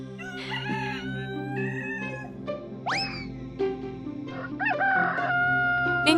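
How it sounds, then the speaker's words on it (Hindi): Roosters crow repeatedly, several rising and falling cock-a-doodle-doo calls overlapping close by, set against a steady low background of music. "लेकिन मुर्गों ने तो चुप नहीं किया"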